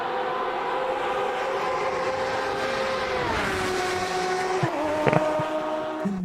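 Modern GT race cars in Automobilista 2 at historic Hockenheim scream past in a pack, engine tones sweeping down as they brake into the chicane, with a sharp crackle near the end; no speech.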